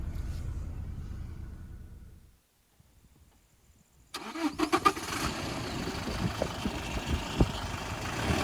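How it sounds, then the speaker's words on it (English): A Toyota Innova Crysta 2.4 diesel turns over and fires up after a short silence, then settles into a steady, close, fairly loud idle with some clatter, no talking over it. "So now let's see how the engine starts up,"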